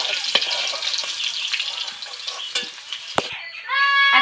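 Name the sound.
potatoes frying in oil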